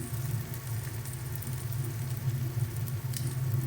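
Turmeric, dried red chilli powder, cumin powder and salt frying in a pan for a Ganges bele fish curry, giving a steady, soft sizzling hiss with faint scattered crackles throughout and no voices.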